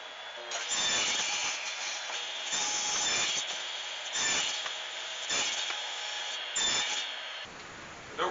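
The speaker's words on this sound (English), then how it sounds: "I've got 3 pieces stacked up here to be cut by the radial arm saw" A radial arm saw cuts through three stacked pieces of plywood, giving several loud, harsh bursts of blade noise separated by short gaps as the saw is pushed through the wood.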